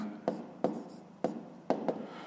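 A pen writes numbers by hand for a fifth-grade math equation exercise, making five short, close scratching strokes spaced across a quiet background with no talking.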